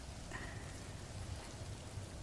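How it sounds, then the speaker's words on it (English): Rain falls steadily as a soft, continuous patter and hiss, moderately quiet and unbroken, with no talking over it. "You guys are listening to rain."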